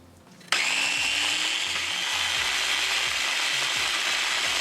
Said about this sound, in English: So we'll place the motor and we'll start it.